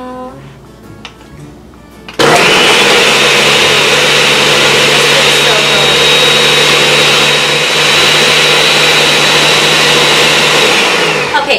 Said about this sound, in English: so now that all of this is blended